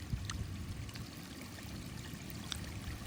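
Water pours out of a dam overflowing after unseasonal rain, a steady broadband rushing and trickling at moderate level that continues through the whole stretch with no speech.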